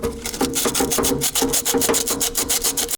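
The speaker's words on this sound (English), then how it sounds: "I'm just getting in here with a little bit of sandpaper," Steady, rapid sandpaper rasping against a metal terminal on an old stick welder, close up, continuous scratchy strokes for the whole stretch.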